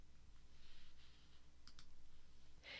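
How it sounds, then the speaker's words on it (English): A mouse button clicks twice in quick succession on the Save button in Photoshop, a faint, crisp pair of taps in a quiet room, followed by a brief rustle near the end. "And then click the Save button."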